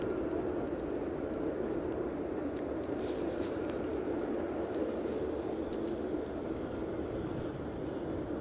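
An ATR turboprop aircraft inbound at Edinburgh airport in wet, windy weather, a steady broad engine roar heard at a distance under constant wind noise, with no voices.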